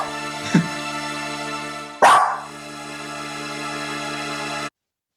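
A dog barks twice, short and sharp, over a sustained tonal music track. The barks stand out loudly against the steady music before everything cuts to silence.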